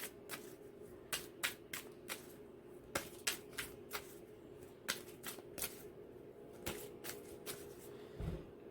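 Romance Angel oracle cards being shuffled by hand, a quiet run of crisp riffling bursts with short pauses between them, close up with no talking.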